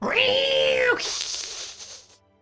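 A person imitates a cat with one drawn-out, whiny meow, loud and close, then a breathy trailing noise that fades out.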